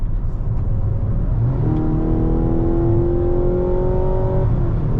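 Mazda CX-90 turbo six switched into normal mode pulls hard under acceleration, a steady engine drone with rising harmonic whine heard from inside the cabin over road rumble.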